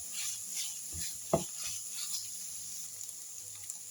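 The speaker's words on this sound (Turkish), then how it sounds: "Şöyle salçayı da iyice kavuruyorum." Minced meat with tomato and pepper paste fries in a pan, with a soft continuous sizzle and a few sharp scrapes and clinks of a spoon stirring against the pan.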